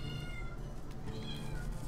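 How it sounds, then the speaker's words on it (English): A cat meows continuously and insistently, close and loud, in a short repeated burst of plaintive calls. "kitty's meowing like crazy"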